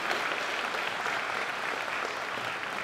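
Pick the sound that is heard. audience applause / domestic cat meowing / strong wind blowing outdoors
audience applause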